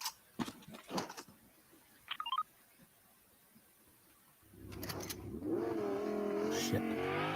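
A car engine in Fortnite starts up and revs, its rising and falling whine growing loud in the second half after a few sharp clicks and thumps, with a voice briefly present.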